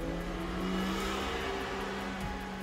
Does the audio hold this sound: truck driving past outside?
yes